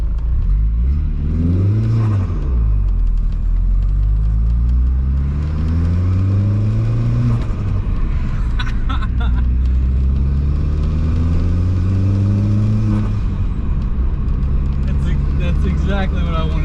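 VW MK3 with a swapped 1.8T turbo engine accelerates repeatedly, its engine pitch climbing and dropping in several loud sweeps over constant road rumble, heard from inside the moving car with faint higher turbo whistles.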